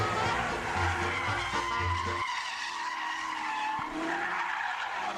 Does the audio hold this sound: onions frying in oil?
no